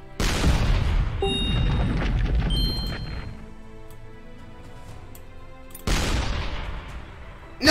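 In a video game, an artillery shot goes off with a heavy, loud boom and a long rumbling tail, and a second blast hits a few seconds later.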